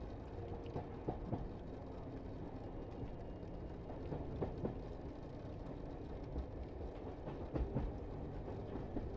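A night train running along the coast toward Villa San Giovanni rumbles steadily on its rails, with a continuous low roar broken by sharp clickety-clack wheel beats and occasional clanks, heard from inside, loud and unbroken.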